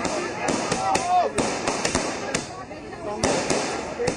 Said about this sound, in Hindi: राहुल की वापसी से गदगद कार्यकर्ताओं ने उनके तुगलक रोड स्थित सरकारी आवास के बाहर जमकर आतिशबाजी की।